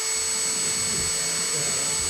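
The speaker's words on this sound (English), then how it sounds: "Dimple in the barrel for the set screws." A power tool whines steadily and loudly, dimpling a gun barrel to seat set screws during a homemade build, a continuous high-pitched drone filling the whole moment.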